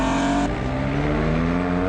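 Suzuki rally car D9 engine droning loudly nearby at a steady pitch, a brief higher whine at the start before settling into a sustained motor note.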